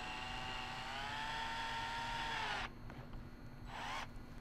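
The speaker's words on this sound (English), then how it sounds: "I actually have a nut driver for my drill that fits these." A power drill fitted with a nut driver runs steadily, tightening nuts while installing a Lowrance HOOK2 7HDI fish finder on a boat bow, whining continuously, then stopping and briefly starting again in short bursts.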